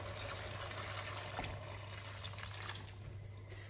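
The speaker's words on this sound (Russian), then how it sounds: "Добавляем туда горячую воду." Hot water pours into a pot of stewed cabbage and broccoli for broccoli and Stilton soup, a steady close trickle and splash that runs on without a break.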